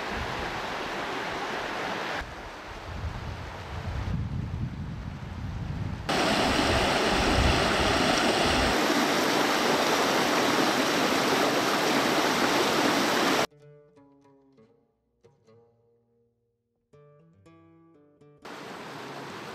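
The Aguet river in a Moroccan mountain valley, a steady broad rush of flowing water that swells louder midway, then drops to near quiet with faint scattered tones before the rush returns.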